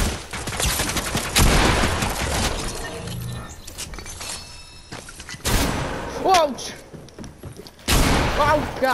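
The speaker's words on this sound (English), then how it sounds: "You can't hide from the combat pistol." Combat pistol gunfire in Fortnite, sharp cracking bursts in clusters with loud impacts and pauses between volleys, with voice cues layered over the game sounds.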